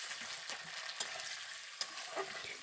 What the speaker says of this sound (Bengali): পেঁয়াজটাকে দিয়ে ভালো করেই ভেজে নেব